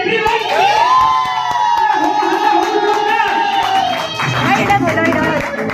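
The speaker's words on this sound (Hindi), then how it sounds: "ताली ताली एवरीवन" Old music students at a reunion get-together clap and cheer as a group, a loud, continuous crowd roar with whoops and sustained voiced tones running throughout.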